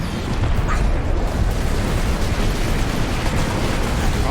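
Grenade blasts in the Warhammer game Space Marine, a dense continuous roar of explosions and battle noise, loud and close throughout with no clear gaps.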